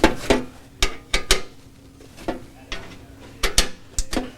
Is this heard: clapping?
no